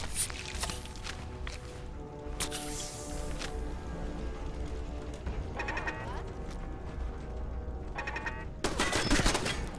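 Rapid bursts of gunfire in the video game Fallout 4 crackle over a dense, busy background of game sounds, with a louder volley near the end.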